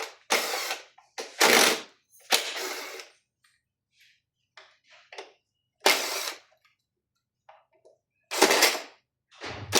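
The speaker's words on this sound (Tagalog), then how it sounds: "tanggalin mo lang tong 4 na screw dito" A power screwdriver whirs in several short bursts while removing four screws from the blower of a Mindray SV300 ventilator, with quiet clicks and handling of parts between bursts.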